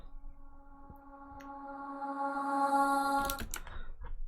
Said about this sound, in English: this bit here is a reverse reverb.